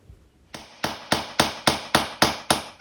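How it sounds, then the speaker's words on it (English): Nails hammered into wood while building a homemade squat rack: nine sharp, evenly spaced hammer blows ringing out loud and close after a brief quiet start. "Next, I'm hammering the nails in."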